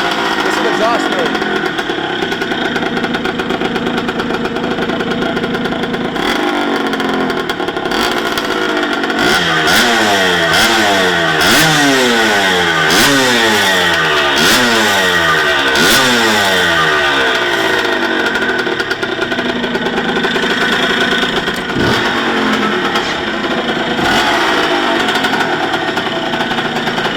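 A 1974 Carabela MX125 motorcycle engine runs loud and close, idling rough then revving up and down in repeated rising and falling sweeps, with voices talking over the steady engine noise.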